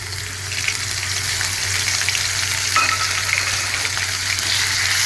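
Ginger paste dropped into hot oil already holding cloves, cinnamon and whole cumin, producing a loud, continuous close-up frying hiss that swells slightly midway, with no voices.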